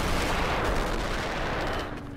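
Dense gunfire in the D-Day battle game Honor & Duty, a continuous crackling barrage of overlapping shots, loud and close, easing slightly at the end.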